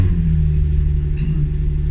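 A project car's engine with its resonators removed runs loud and close, a deep, steady throbbing rumble throughout with no voices.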